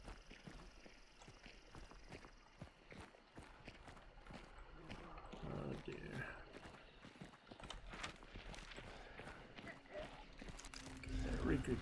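Horse hooves clip-clop in a steady rhythm through a game scene, moderately close amid outdoor ambience, while a voice speaks briefly over it.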